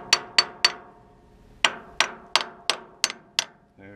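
A hammer taps a hydraulic plate on a Farmall 460 tractor: three quick metallic strikes, a short pause, then six more evenly spaced ringing taps, close and clear.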